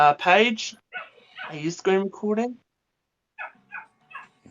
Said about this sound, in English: If you heard dogs in the background